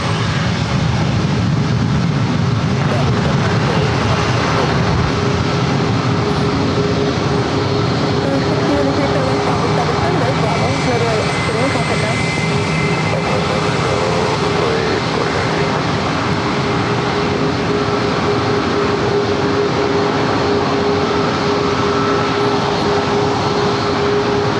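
Spirit Airlines Airbus A320 jet engines at San Diego airport, a loud, steady roar with a sustained whine that persists throughout, heard from outdoors at a distance.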